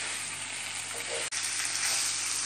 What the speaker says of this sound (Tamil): இதிலே தான் நம்ம இதை திருப்பி திருப்பி விட்டு வேக வைக்கணும்.